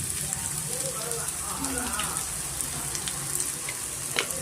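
Onions with curry leaves frying on a medium flame for a chicken pepper fry, a steady dense sizzle throughout with faint crackles, close and even.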